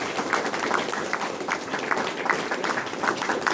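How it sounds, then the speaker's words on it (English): A church congregation claps together in a steady, dense wash of applause that fills the room, sustained at an even level throughout. "I would ask you to applaud also."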